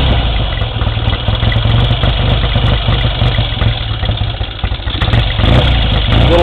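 A 1965 Triumph TR6SR 650 motorcycle engine runs loud and close, idling with an uneven, throbbing rumble that rises and dips slightly throughout.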